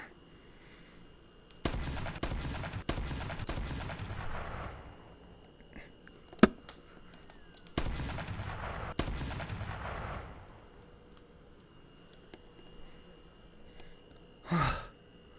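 Six gunshots fired on a range in close succession: sharp, loud, echoing reports with a clear pause partway through the string, the last shot following after a longer gap.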